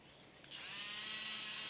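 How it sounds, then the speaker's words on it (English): A small handheld mini coffee frother with a little whisk tip switches on and whirs steadily with a high, thin motor buzz, close and continuous, with no talking. "These are like these mini coffee frothers"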